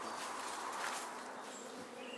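Honeybees buzzing steadily around hives being set up in woodland, a continuous close drone with no talk.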